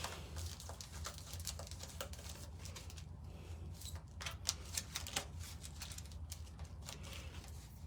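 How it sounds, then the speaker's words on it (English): Tarot cards are shuffled repeatedly, with soft, quick riffling snaps and flicks close by in a quiet room. "You just want to shuffle them up."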